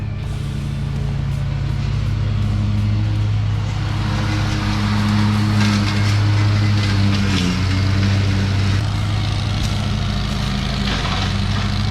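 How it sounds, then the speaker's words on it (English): A Scag mower used as a brush mower drones steadily and loudly at close range, its engine holding a constant low hum while it cuts through brush and sticks. "we're using a Scag as a brush mower right now"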